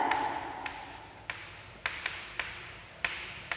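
A pen or pencil writes by hand in a quiet classroom-style setting, making soft scratchy strokes with a few light taps scattered through the stretch.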